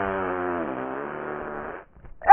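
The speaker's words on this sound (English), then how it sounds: "Fart!" A cartoonish fart sound effect, a single long buzzing tone that slowly drops in pitch and fades out, loud and close, followed by a sharp brief sound at the end.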